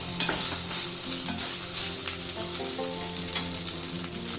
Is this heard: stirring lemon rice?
yes